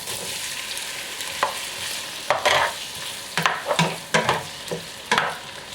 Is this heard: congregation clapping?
no